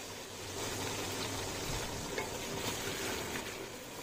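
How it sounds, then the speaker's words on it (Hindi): A pan sizzling steadily as garlic-ginger paste fries for masala biryani, a constant crackling hiss with occasional stirring scrapes, no voices. "इसको डालकर भून लिया है हमने अच्छी तरह से करीब 1 मिनट तक।"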